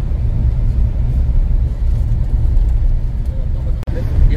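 A vehicle drives over wet mud, its engine and tyres giving a steady low rumble with loose, gritty churning throughout and a brief dip near the end.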